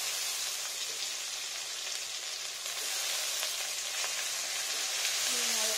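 Spices with turmeric, salt and ginger frying in oil for a spinach dish, a steady close sizzle that carries on without a break, with faint stirring.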